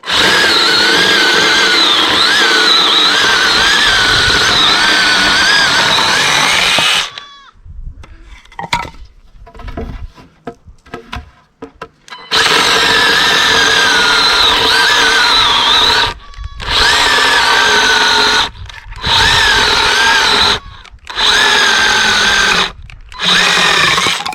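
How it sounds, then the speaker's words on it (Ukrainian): A small power saw cuts steadily through firewood with a loud continuous whine, broken by pauses and short gaps between cuts. "пиляю ще без перепочину. Ще два різа треба зробити."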